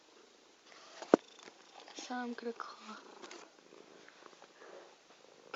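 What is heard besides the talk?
cat purring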